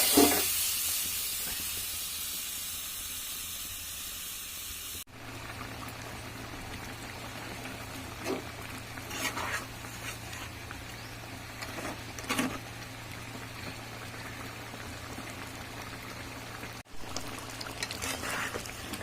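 Water poured into a pan of braised meat curry being cooked down dry, a loud hiss at the start settling into a steady simmering bubble with occasional soft clinks and stirring scrapes.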